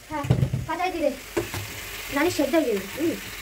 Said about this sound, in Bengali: থাকবে আলু ওইভাবে দিয়ে দিই গা